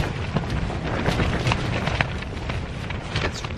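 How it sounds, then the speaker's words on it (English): Strong, freezing wind buffets a campsite in Cornwall in rough, gusty waves, a loud rushing roar with uneven bursts and no voices. "It's really windy."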